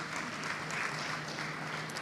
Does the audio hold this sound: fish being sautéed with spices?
no